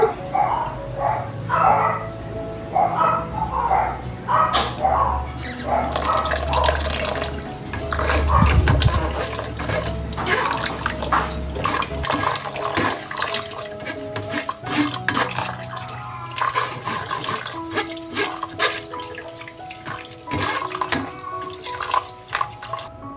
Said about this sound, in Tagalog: Bali, hugasan natin pala ang sago. Gumamit tayo ng strainer guys.